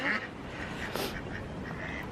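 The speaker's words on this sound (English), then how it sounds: "Oh, here are the ducks." Ducks quacking at an alpaca farm on the Isle of Wight, a busy cluster of nearby calls over outdoor background noise, with a brief burst near the start and more through the middle.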